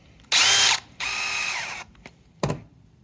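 Small screws driven with a power driver into the plastic case of an RC crawler's dual transmission, two sustained buzzing runs, then two short whirs, close up with no talk.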